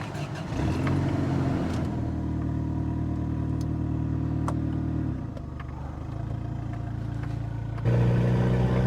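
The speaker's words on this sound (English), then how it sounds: "we're gonna take this thing for a test drive now." A loud Toyota street truck pulls away on a test drive, its engine rumbling steadily and close by, with a brief dip in the middle before the revs rise again near the end.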